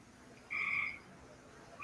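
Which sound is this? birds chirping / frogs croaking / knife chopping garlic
frogs croaking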